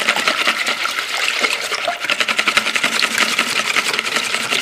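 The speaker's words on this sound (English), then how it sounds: "I'm just going to beat that together with the eggs," Eggs, milk and oil for corn muffins are beaten together in a bowl, a fast, steady whisking clatter that fills the whole stretch, close and continuous.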